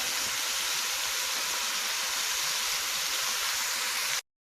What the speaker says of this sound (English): And I'm going to saute this around for about 5 minutes or until it softens up.